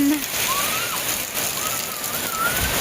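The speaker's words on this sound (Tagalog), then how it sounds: "Hala, ang lakas ng ulan." Heavy rain pours down in a steady, loud, broadband roar with no breaks, as if heard through a window, with faint thin whistling tones drifting above it.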